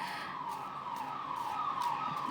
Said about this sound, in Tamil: ஆம்புலன்ஸ் சவுண்ட் கேட்குது.